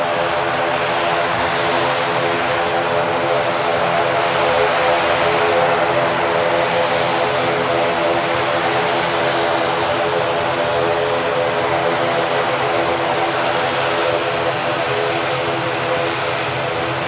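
A Loganair propeller airliner passes close by, its loud, steady droning engine roar filling the whole stretch with a constant hum.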